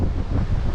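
Water rushing steadily at Dhanagar waterfall near Badlapur, a continuous broadband roar mixed with gusty wind buffeting the microphone throughout the short moment.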